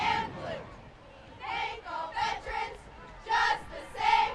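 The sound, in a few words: cheerleaders cheering at a high school football game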